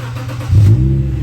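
A Subaru Legacy barn find that had sat for a year is revved once: a steady idle swells into a short, loud rev, then settles back to a low idle, close by.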